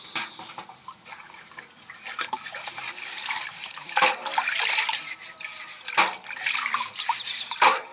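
A handmade traditional craft piece is washed with water and scrubbed with a brush, giving continuous running and splashing water with repeated louder scrubbing bursts close by.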